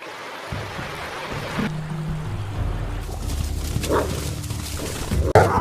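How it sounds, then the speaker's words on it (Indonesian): A dog in an action film barks repeatedly while being let loose, the barks sharp and fairly close over a steady rumble of movie soundtrack and background noise. "Kong melepaskan anjing miliknya yang terus menggonggong, pertanda jika Mariano sudah semakin dekat."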